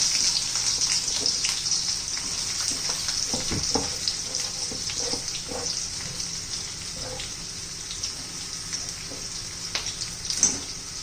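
Onions sautéing in oil in a pan for paneer masala, after the paneer pieces were fried in it, give a steady hiss with soft stirring scrapes and a few clinks, close and moderately loud, with no talking.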